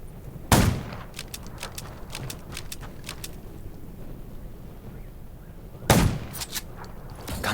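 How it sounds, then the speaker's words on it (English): Gunfire in the zombie survival game Undawn: two sharp, loud shots about five seconds apart, each followed by a scatter of quick, lighter cracks over a steady background of wind and low rumble. "Gunshots will attract more zombies."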